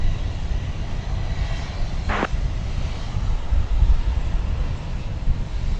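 An airplane taking off at DFW Airport, a distant, steady engine roar mixed with wind buffeting, with one short higher-pitched squeal partway through and no talk.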